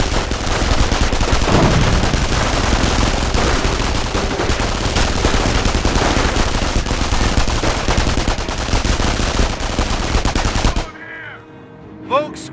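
Sustained machine gun and rifle fire rattles loudly and densely for about eleven seconds in a Company of Heroes battle around a manor, then cuts off abruptly, leaving brief faint voices and ambient game sounds.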